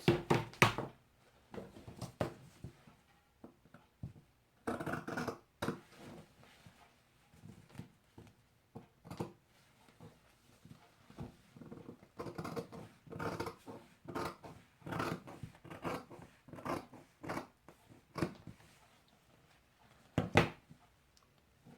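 Scissors cutting fabric for a pencil skirt on a table, giving a run of close, irregular snips and dull knocks with brief pauses between bursts, no talking.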